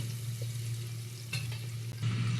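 Onions fry in oil in a pan, giving a steady close sizzle with a low hum underneath and a brief stirring scrape, with no voices.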